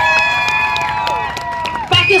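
A crowd in a room whoops and cheers for Egypt in a clapping contest, sustained shouting voices with scattered claps throughout, swelling at the end.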